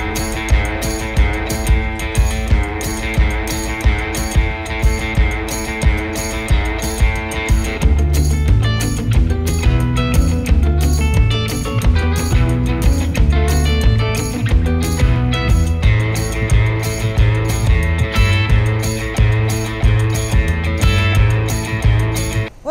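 A DEWO reinforced potato haulm topper runs steadily, giving off a loud, continuous mechanical clatter with fast rhythmic ticking throughout and no talking.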